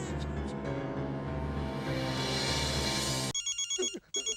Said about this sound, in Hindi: टप्पू का फोन इतनी रात को?